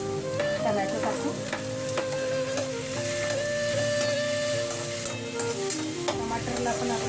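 Tomatoes tipped into browned onions in a pan for an eggplant curry give a steady, close sizzle with stirring, over faint sustained tones in the background.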